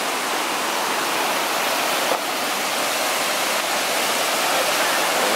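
Mae Klang Waterfall roars steadily nearby, a dense, unbroken rush of falling water that stays loud and even from start to finish.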